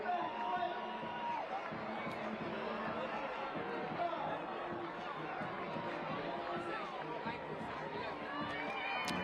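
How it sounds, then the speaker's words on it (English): Stadium crowd murmuring and chattering at Championship Soccer Stadium in Irvine, California, before an Orange County SC versus Las Vegas Lights FC match, a steady dense wash of voices throughout with no sharp peaks. "Great crowd here at Championship Soccer Stadium"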